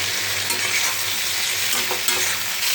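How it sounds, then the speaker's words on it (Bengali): Fish curry spices being stirred in a hot pan, a steady bright sizzle with scraping spoon strokes at irregular intervals, close and continuous with no voices. "একটু নেড়ে দিই।"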